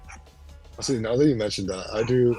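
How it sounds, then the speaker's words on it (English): A dog barks and yips in the background, a few quick yaps mixed under a person talking close to the microphone during a casual online interview. "I'll probably wait until like the dog's like done barking."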